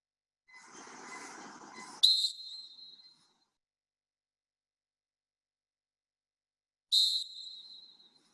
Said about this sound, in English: One with the whistle, the actual whistle under the mask, and then the other with the electronic whistle